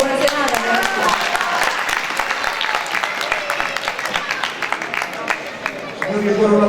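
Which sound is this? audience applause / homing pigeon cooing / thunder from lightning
audience applause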